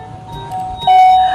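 An electronic doorbell at a gate chimes with a sudden, loud sustained tone that rings out clearly over faint background noise.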